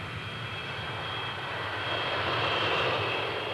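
An airliner's engines pass overhead as a steady, broad roar that swells slightly louder toward the end, with no voices.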